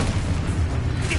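Confringo explosive spell in Hogwarts Legacy open-world combat, a dense rumbling boom that fills the short stretch at steady loudness with no gaps.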